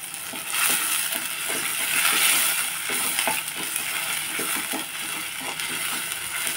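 Turmeric and rock salt are stir-fried in a pan, with a steady gritty sizzle and scraping stirs that come and go alone at moderate volume.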